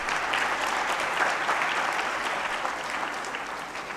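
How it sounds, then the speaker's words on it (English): Audience at a Lahore management and HRD summit panel session applauds steadily, a dense wash of many hands clapping at even loudness throughout, with no talk over it. "A round of applause for him."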